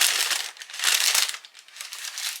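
Tissue paper crinkling and rustling as Nike Air Max 1 Patta sneakers are unboxed, continuous crisp crackling in waves, close and fairly loud with no talking.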